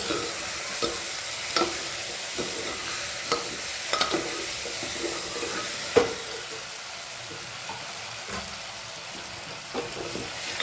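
A spoon scrapes and stirs chili powder and salt masala through sizzling oil in a pan, with irregular clinks and scrapes over a constant frying hiss.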